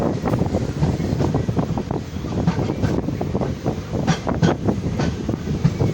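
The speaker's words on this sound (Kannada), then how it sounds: "ಪ್ರತಿಯೊಂದು ಸ್ಟೇಷನ್ನು ಸ್ಟಾಪ್ ಇದೆ ಈ ಟ್ರೈನು" A passenger train runs along a single-line track on a Kerala route near Kollam, its steady close rumble and rhythmic wheel clatter mixed with rushing wind, with no talk.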